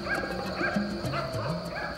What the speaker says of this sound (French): Vous entendez ces aboiements?